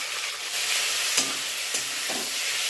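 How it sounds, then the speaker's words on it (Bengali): Spices stirred into bottle gourd frying in mutton fat, a steady close sizzle with a few soft scraping strokes of the spoon, no voices. "ভালোভাবে নেড়ে চেড়ে নিচ্ছি"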